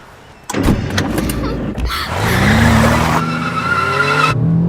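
A car driven fast and skidding, with a door or window thunk early on, then a rising engine roar and tire squeal sustained loudly to the end, no voices.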